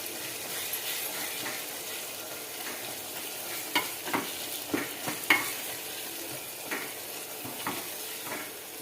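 Potato curry with masala cooks in a pan under a steady low sizzle, with a few sharp spoon-on-pan clicks and scrapes as it is stirred, close and fairly quiet, with no talking.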